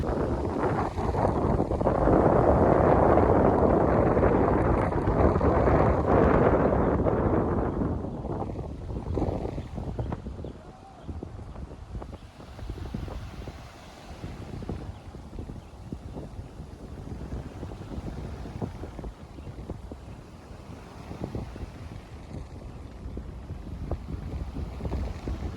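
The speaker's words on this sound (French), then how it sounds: "Il y a tellement de vent." Strong wind buffets the microphone on the beach at Pompierre, Terre-de-Haut in Les Saintes, loudest for the first eight seconds, then a steadier, lower rush of gusts, with no one talking.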